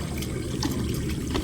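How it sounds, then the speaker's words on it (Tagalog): Water bubbling and churning steadily at a boiling hot spring, a continuous close-up gurgling wash with no talk. "Kung makikita nyo, kumukulo talaga yung tubig oh."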